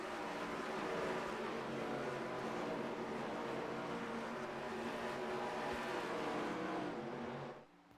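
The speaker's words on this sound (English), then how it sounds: "Green flag waving in the air as we get ready to go back racing here from Nashville Super Speedway" NASCAR race cars in iRacing thunder around Nashville Super Speedway on a green-flag restart, a dense, steady engine roar of the pack that holds loud and then drops off abruptly at the end.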